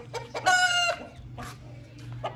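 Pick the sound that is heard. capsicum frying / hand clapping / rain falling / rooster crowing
rooster crowing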